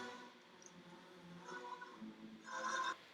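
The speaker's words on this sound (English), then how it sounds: "okay, we got a phone there. I don't like the phone." A telephone rings faintly in a video clip being edited, a thin electronic tone rising out of a muffled room background and swelling into a brighter burst near the end.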